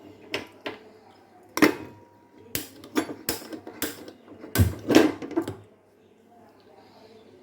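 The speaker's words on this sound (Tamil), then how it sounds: "கேஸ் ஆன் பண்ணுவோம்." A gas stove being switched on in a home kitchen while making halwa: a series of sharp clicks and knob clacks, some close together, with short quiet gaps and a near-silent stretch at the end.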